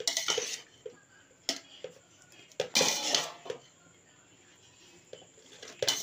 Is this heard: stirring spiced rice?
yes